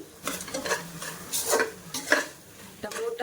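Chicken pieces frying with tomato, turmeric and salt in a pressure cooker for biryani, with scraping spoon strokes and clinks against the metal pot over a soft sizzle, in short bursts separated by quieter gaps.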